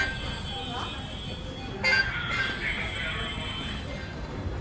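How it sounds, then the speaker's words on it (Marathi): Interior of a moving metro train, a steady rumbling hum with a sharp rise in rattle and noise at about two seconds, continuing at a constant level; no clear talk. "चाललो आहे आपण मेट्रोनी"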